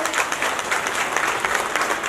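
A crowd at a Congress party political rally claps loudly and continuously, a dense patter of many hands close by, sustained throughout.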